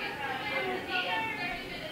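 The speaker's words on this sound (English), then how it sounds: "sorry if you can hear people in the background. My mom has a bunch of friends over." Several people chat indistinctly in another room of a house during a gathering of guests, a faint, steady murmur of overlapping voices heard from a distance.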